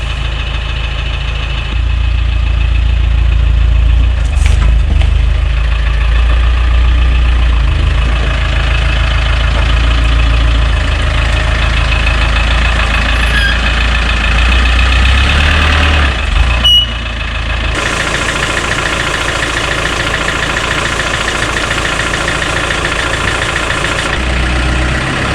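A vehicle's engine idles steadily and loudly at close range while the vehicle moves onto a wash area outside a garage and workshop, a continuous low rumble with a brief clunk partway through and a slight change in tone near the end.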